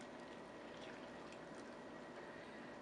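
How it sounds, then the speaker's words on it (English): Hot pickling liquid poured over sliced peppers and onions in a jar, giving a steady, faint splashing hiss that runs unbroken throughout with no voices. "I'm just going to take my hot liquid and pour it right over"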